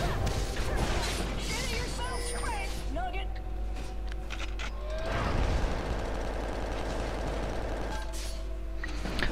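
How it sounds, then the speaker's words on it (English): Corki's machine gun fire in League of Legends, a sustained rattling mechanical burst that runs for several seconds amid layered game effects and someone talking throughout. "That was my machine gun fire"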